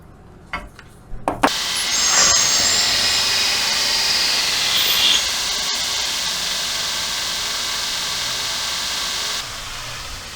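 A knife bevel ground on a belt grinder with a jig in a home garage: a few short clicks, then a loud, steady high-pitched grinding whine that runs for several seconds before easing off toward the end.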